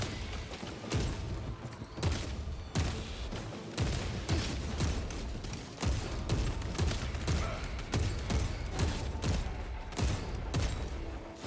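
Gunfire in Warhammer 40k Space Marine 2, rapid bursts of heavy weapon fire with mechanical clanks and thuds, irregular volleys repeating throughout at moderate loudness.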